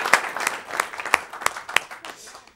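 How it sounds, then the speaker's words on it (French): Scattered, sparse handclaps from a small studio audience during a French talk show, a few sharp individual claps spaced irregularly rather than a full ovation, with faint background murmur. "Alors, on applaudit, s'il vous plaît."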